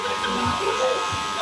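Electric hair clippers buzz steadily while skimming over short, fine hair during a men's number 4 back-and-sides cut. The brief hum sits under a voice.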